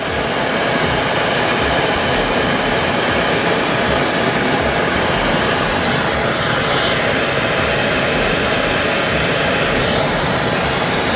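Glassworking torch (Nortel Minor) roaring steadily while heating a glass rod, a loud continuous broadband hiss close up, with no talking.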